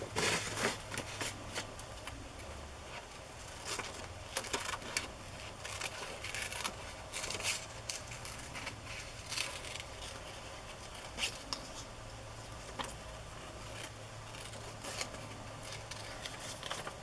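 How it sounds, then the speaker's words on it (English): Scissors snip through paper while a bunny shape is cut out, giving a long run of quiet, irregular clicks and crisp rustles with a soft steady hum underneath and no voices. "Cut this bunny out."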